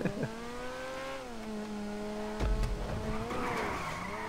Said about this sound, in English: Oh man, I've spun out.